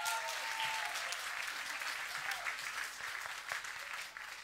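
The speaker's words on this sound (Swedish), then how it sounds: "Ja, men en applåd!" Applause from a school music festival audience, a steady faint patter of many hands clapping at a distance, with a brief whistle near the start and no talking.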